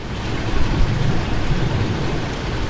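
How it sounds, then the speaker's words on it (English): Heavy rain beats down on a Lone Star Grill barbecue pit outdoors, a loud, dense, continuous hiss and patter of drops striking the metal cooker, with no talking. "We'll see how the Lone Star Grill holds up to the rain beating down on it"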